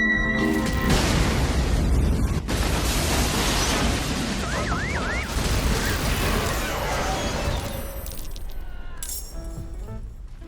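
A loud explosion in the video game Baldur's Gate 3, a dense, sustained roaring blast with clinking debris and rumble that holds steady for several seconds before thinning out and fading toward the end.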